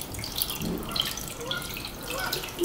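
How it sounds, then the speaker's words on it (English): Small splashes and drips of water as a tiny baby rock bass is lowered into a river-themed aquarium holding native Minnesota fish, with soft, close watery movement continuing throughout. "So we're gonna put him in the tank now."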